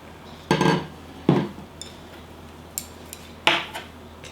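Metal pot lid handled while making chilled soybean sprout soup, several sharp clanks and clinks spread over a few seconds, close and fairly loud, with lighter taps between, no talk.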